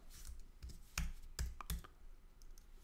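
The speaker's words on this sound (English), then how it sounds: "we can start typing what we want to look for" Keys clicking on a computer keyboard as a search term goes into a WordPress command palette, a few quick separate taps followed by quieter scattered clicks, close and fairly soft with no talk.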